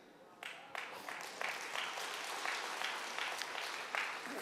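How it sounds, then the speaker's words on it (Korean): An audience at a seminar claps, a steady crackling round of applause that starts suddenly and holds at an even level throughout. "박수 치지 마세요."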